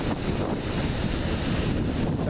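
Atlantic Ocean waves wash steadily at an island's easternmost point at the foot of a mountain, a constant broad roar heavily mixed with wind buffeting the microphone.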